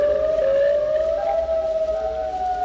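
A wailing civil-defense-style siren call from the Siren Head creature in a video game, one sustained tone that slides slightly upward and drones on steadily for nearly three seconds, alone without speech.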